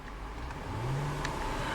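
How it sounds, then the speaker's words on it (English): The engine of a 2010 Land Rover Range Rover HSE AWD climbs briefly from idle in a short, close rev, a rising hum that swells and then eases off again. "I'm going to rev the engine."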